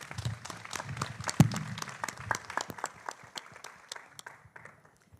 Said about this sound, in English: a round of applause again for our panelists